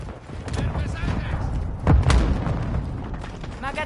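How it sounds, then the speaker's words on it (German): A grenade going off in a Call of Duty match: a single heavy boom near the middle, amid background gunfire, with a voice talking around it. "Granate geworfen."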